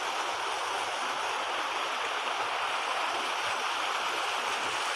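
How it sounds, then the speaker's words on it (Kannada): Stream water at Karemmadevi Kolla, Gokak rushes in a steady, even wash of noise, close and unbroken throughout, with no talking. "ನೋಡಿ ಎಷ್ಟು ಆಕರ್ಷಣೀಯವಾಗಿ ನೀರು ಬರ್ತಾ ಇದೆ"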